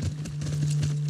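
Horse hooves clip-clopping at a walk in The Last of Us Part II, soft, steady hoof falls over a low constant hum, fairly faint and without speech.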